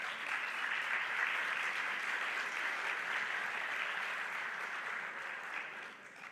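Audience applause for the participants of a university radio panel discussion: dense, continuous clapping from a crowd, steady and moderately loud throughout before tapering slightly at the end.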